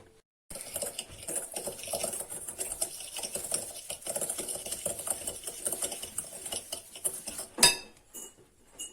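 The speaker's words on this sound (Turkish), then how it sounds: "Bunları bir karıştıracağım ilk önce." Coconut and sugar are stirred together in a bowl for shortbread-style cookies, producing a close, quiet, gritty rasp with light scraping taps and one sharper clink near the end.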